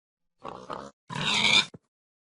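A video-game pig gives three grunts: two short ones close together, then a longer, rougher snort-like grunt ending in a brief click, loud and near with silence between.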